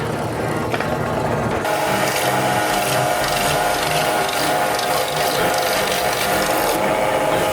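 A drill press bores a hole through a piece of wood in a home workshop, a continuous grinding, rasping whir with gritty cutting texture that holds steady for several seconds, close and loud with no talk.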